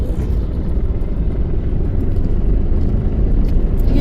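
Heavy road traffic on a bridge in Chennai produces a loud, continuous low engine rumble and tire roar, with a steady flow of vehicles close by and no break in the noise.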